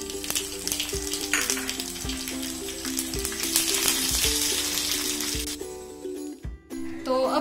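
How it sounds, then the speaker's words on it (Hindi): Mustard seeds, curry leaves and green chillies sizzle loudly in hot oil for sooji dhokla tempering, a dense continuous crackle with a brief dip near the end. "जब हमारी राई तड़कने लगेगी तो इसमें मैं 3 से 4 करी पत्ता डालूंगी।"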